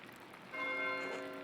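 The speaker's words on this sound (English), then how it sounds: "Why is Matthew ringing the bell?" A church bell rings at a monastery in the video game Pentiment, its sustained metallic tone swelling in partway through and lingering over soft background ambience.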